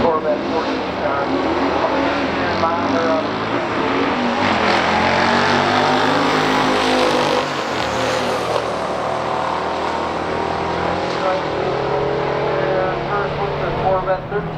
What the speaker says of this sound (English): Out of Tennessee, 1969, 396 Corvette